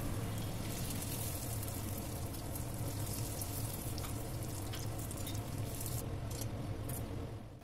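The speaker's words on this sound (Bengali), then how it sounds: "চলুন এইভাবে আমি প্রত্যেকটা ফুচকাই ভেজে ফেলি" Fuchka puris frying in hot oil give a steady, dense crackling sizzle that runs evenly from start to finish, with no voices.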